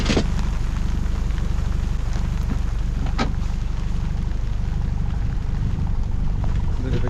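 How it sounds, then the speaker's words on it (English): Rain shower and gusty wind on a sailboat heading to anchor in a bay under strong trade winds: a steady, loud hiss of rain and wind noise throughout, with a couple of brief sharper knocks. "Bit of a shower at the moment."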